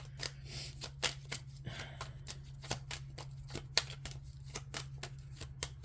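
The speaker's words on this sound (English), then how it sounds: "Do you hear me still shuffling?" Oracle cards shuffled by hand in a steady train of crisp, evenly spaced flicks and taps, close and quiet over a low constant hum, with no talk during the shuffling.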